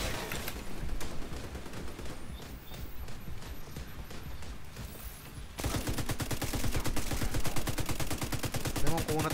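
Weapon fire in the shooter game Tom Clancy's The Division 2, scattered heavy shots giving way to a sustained rapid automatic barrage in the second half, loud and close.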